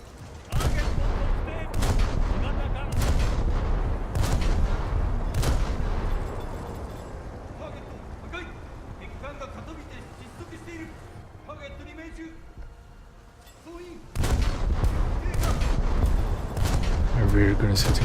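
Ship guns firing in a naval combat video game, dense rapid volleys of booming gunfire that fade to a quieter stretch of engine and water noise before heavy firing resumes, with someone talking over it.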